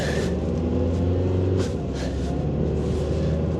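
A Mazda 3 with a previously failed transmission control module drives along while its automatic transmission shifts gears, heard as a steady low engine and road rumble with slight rises in tone, moderately close, no talk.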